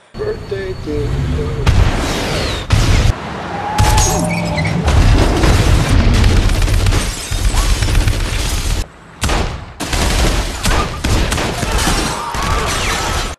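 Heavy booming bomb blasts and crackling bursts in an action film roll through a loud, chaotic mix, with deep rumbling impacts and sharp pops one after another.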